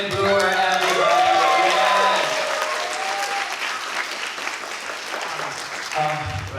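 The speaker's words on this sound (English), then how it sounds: "Please give a big round of applause for" Audience applause breaks out at a Comic-Con 2023 panel as a guest is introduced, loud, dense clapping from a crowd that holds for about two seconds, then thins and fades toward the end while a voice briefly speaks.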